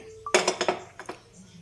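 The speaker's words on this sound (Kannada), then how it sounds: "ಈಗ ಸ್ಟವ್ ಹಚ್ಕೊಂಡು ಒಂದು ಪಾತ್ರೆ ಇಟ್ಕೊತಾ ಇದ್ದೀನಿ" A metal pot being set onto a lit kitchen stove, a quick run of sharp metallic clanks and clinks followed by a couple of softer knocks, close and clear with no talk.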